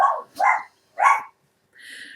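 A small pet dog barks three times in quick, sharp yaps, close and loud, followed by a brief higher whine, with no talk over it.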